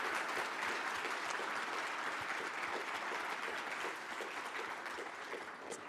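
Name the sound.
audience applause for the panel moderator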